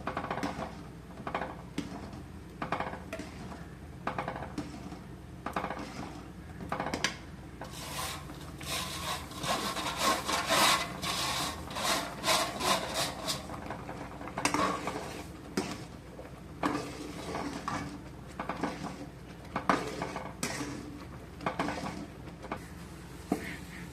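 A spoon scrapes and rubs through thickening roasted semolina (rava) as it is stirred into boiling water for a sweet dessert, giving steady rasping strokes at close range with light clinks against the pot and no talk.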